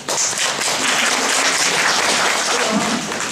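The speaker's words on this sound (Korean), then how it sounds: "박수." A crowd bursts into applause at a university lecture, a dense, steady clapping from many hands that fills the room for a few seconds.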